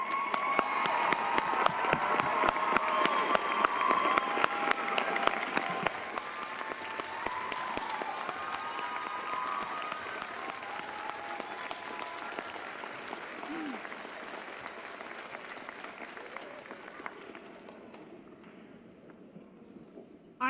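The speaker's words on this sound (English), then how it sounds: "shall we give you the standing ovation you so honorably deserve" A graduation ceremony crowd gives a standing ovation at Millcreek High School, with dense sustained applause and some cheering filling a large hall, loud at first and gradually fading toward the end.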